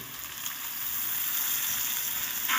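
Half-fried potatoes with cut radish sizzle steadily in oil in a pan for a vegetable curry, a continuous, even frying hiss that grows slightly fuller toward the end, with no voices.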